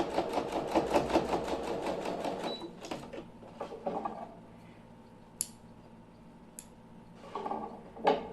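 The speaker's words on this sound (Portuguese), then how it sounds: "agora aqui eu vou passar a costura novamente" A sewing machine runs a final seam on a small fabric bag, a fast rhythmic stitching chatter for a couple of seconds, then quieter clicks and brief bursts of stitching.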